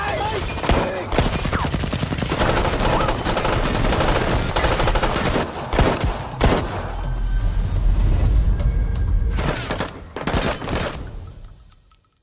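Rapid bursts of gunfire crackle through a film fight scene as a father fights back with a pistol against many attackers, dense and loud, with brief gaps and a few isolated shots before fading out.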